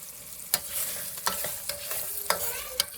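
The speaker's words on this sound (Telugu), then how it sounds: "ఒక స్పూన్ కస్తూరి మేతి క్రష్ చేసుకొని ఇందులో వేసుకొని ఒక 1 మినిట్ ఉడికించుకోవాలి." Palak paneer with crushed kasuri methi cooking in a pan, a soft continuous simmer and sizzle broken by several sharp clinks and scrapes of a spoon stirring, close and without voices.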